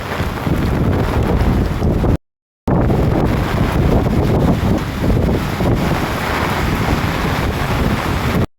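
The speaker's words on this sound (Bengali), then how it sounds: "বাতাসে কিন্তু মাঝে মধ্যে প্রচণ্ড পরিমাণে চাপ দিতেছে" Strong wind roars and buffets the microphone in a loud, steady rush during a heavy rainstorm in Chittagong, broken only by a brief moment of silence.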